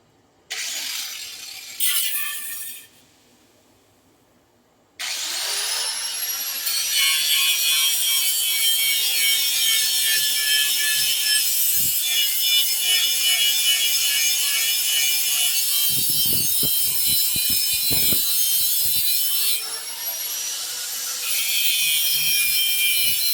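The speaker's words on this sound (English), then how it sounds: "I'll grind this handle down a little bit." Power grinder working the handle of a knife made from an old cross cut saw blade, a loud sustained high whine after a brief start, with scraping contact noises near the end.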